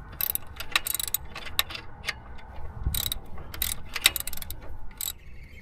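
Close ratchet wrench clicks in quick irregular bursts as a 13 mm socket loosens the alternator bolt on a 2010 Toyota Corolla, with faint metallic handling between the runs of clicks.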